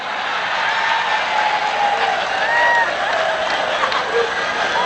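A crowd at a humorous religious sermon claps in a continuous, dense wash of applause, moderately loud and steady, with faint murmurs and stray voices mixed in.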